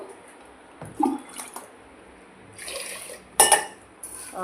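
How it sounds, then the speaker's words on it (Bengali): Rice being rinsed in water in a home kitchen: a few short sloshing and splashing bursts with a clink of a pot, separated by quiet gaps, close by. "চালটা বার করে নিয়ে চালটা ধোবো"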